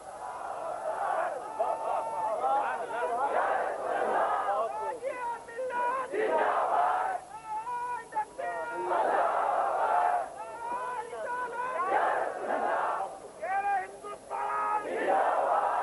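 A large crowd chants the Islamic takbir slogan in loud, rhythmic waves of shouted calls, voices rising and falling together with short pauses between each call.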